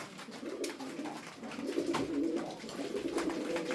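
Turkish tumbler pigeons coo in a low, rolling murmur from several birds nearby, steady and unbroken by speech.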